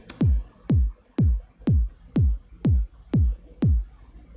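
Unprocessed kick drum from a minimal house track, eight booming low thumps at a steady even pulse, each a short click followed by a falling tone, heard clearly on its own.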